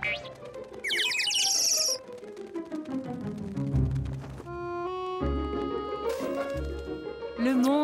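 Cartoon birds chirp in a French animated children's show, a flurry of high, bright tweets laid over busy musical score with other playful sound effects, fairly loud and up front.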